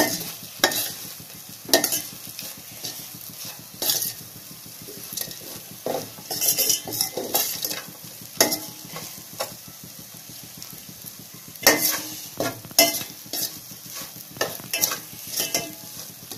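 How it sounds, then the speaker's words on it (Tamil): Okra with spices stir-fries in a pan, a spatula scraping and clinking in frequent irregular bursts over a steady close sizzle, with no voices. "இது நல்லா ஒரு 5 நிமிஷம் நல்லா வதங்கட்டும்."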